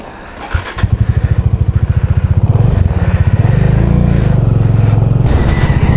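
A motorcycle on a long road trip, its engine reported seized, starts up and settles into a loud, steady, rapid thumping idle, close to the rider.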